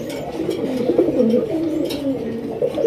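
A male pigeon of the high-quality Raj Golla breed coos steadily in low, rolling phrases, close and fairly loud, with a faint murmur of background noise throughout.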